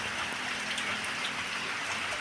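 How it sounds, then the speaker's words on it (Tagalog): Steady rain falls into a collecting drum behind a house, a continuous hiss of drops with faint patter on water and surface, no voices. "Ulan na naman."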